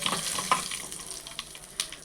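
Mustard seeds, cumin and chana dal sizzle and crackle in hot oil for a tempering for raw gooseberry and green chilli chutney, a close hissing fry with scattered sharp pops and spatters.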